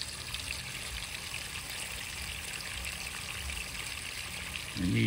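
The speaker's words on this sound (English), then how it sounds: "I like the sound, so does my wife, the sound of this waterfall." A small garden waterfall trickling into a 125-gallon backyard pond, heard as a steady, even wash of running water close by and holding constant throughout.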